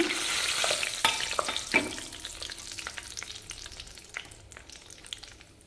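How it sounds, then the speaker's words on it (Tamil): Cashew nuts roast in a hot pan for a homemade mixture snack, a close crackling sizzle with sharp clicks and rattles as they are stirred, fading gradually quieter. "இப்போ முந்திரி பருப்பு போட்டு வறுத்துக்கலாங்க"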